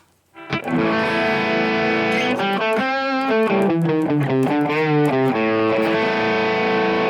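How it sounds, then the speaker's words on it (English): A heavily distorted electric guitar through a Marshall amp profile on a Kemper plays sustained chords and a few changing notes, loud and alone. "Michael Britt liquid profile pack. A Marshall."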